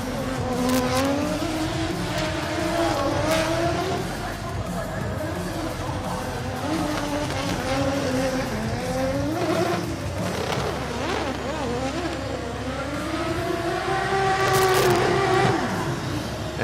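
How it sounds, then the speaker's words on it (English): Nissan Silvia S14/S15 drift car with a 2JZ engine at a drifting competition, its engine droning and rising and falling steadily as it flicks left to right, with a commentator talking over it throughout. "Yokoi, his flicks from left to right are one of the best you'll see here"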